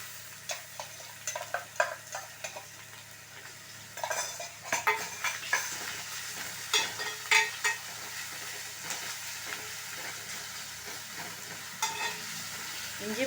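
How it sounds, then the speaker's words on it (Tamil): Ginger garlic paste sautés in a pan for white chana kurma, giving a close, steady sizzle broken by repeated scraping and clinking strokes of a spoon stirring against the metal. "இஞ்சி பூண்டு பேஸ்ட்டு போட்டோம்னா அடி பிடிக்காமல் நம்ம வந்து கொஞ்சம் வதக்கிக்கிட்டே இருக்கணும்."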